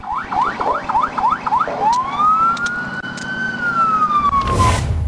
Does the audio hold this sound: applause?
no